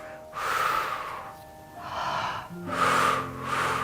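Slow, deep breaths in and out while lying down doing a core compression exercise with Kegels, three broad airy swells of rising and falling breath, close and fairly loud, with a faint hum underneath.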